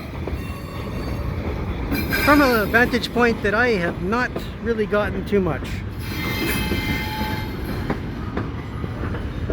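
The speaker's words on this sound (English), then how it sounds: "And it's not a whole train, it's a cut of cars." A CPKC freight cut of railcars rolls slowly through the Lachine intermodal yard, its wheels squealing in rising and falling tones over a rumbling, clanking drone while someone speaks nearby.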